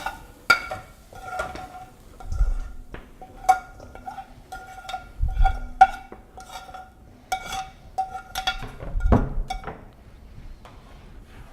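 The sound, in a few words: stirring cauliflower soup in a pot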